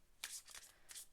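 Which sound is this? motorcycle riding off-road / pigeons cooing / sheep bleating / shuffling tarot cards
shuffling tarot cards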